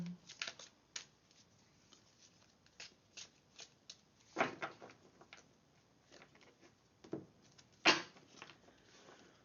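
Tarot cards being shuffled by hand, a faint run of soft riffling flicks and taps with occasional sharper snaps, close up and irregular.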